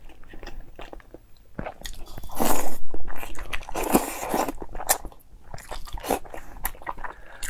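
Eggs bitten and chewed close to the mic at an eating show, with soft-boiled, runny-yolk eggs served: moist bites and squishy chewing come in bursts, loudest in the middle, and no one speaks.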